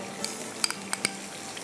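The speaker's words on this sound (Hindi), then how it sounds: "लहसुन को आपने फ्राई कर लेना है, अच्छा सा कलर देना है" Chopped fresh garlic frying in about two tablespoons of oil, making a soft hiss broken by a few quick utensil clicks and scrapes over a brief moment.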